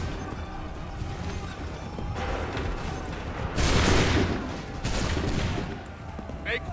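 Musket volleys in Assassin's Creed III, two broad, crackling bursts of massed fire over a constant battlefield din, moderately distant and not overly loud.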